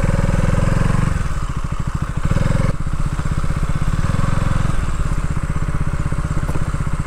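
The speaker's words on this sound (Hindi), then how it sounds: "यहाँ बाइक चलाने में, ऑफ रोडिंग करने में" Motorcycle riding off-road along a jungle road, its engine loud and close with a steady chugging throttle that dips briefly and surges again throughout.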